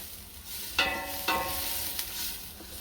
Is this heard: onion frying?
yes